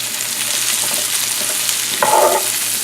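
Green peppers hit a hot pan with deer heart and fry in a loud, steady sizzle, with light stirring scrapes throughout and a brighter burst of sizzling about two seconds in.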